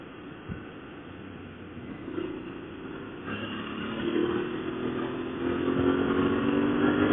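An Aprilia Tuareg 660 motorcycle engine runs steadily up close on asphalt, its drone gradually rising in pitch and loudness as the bike picks up speed.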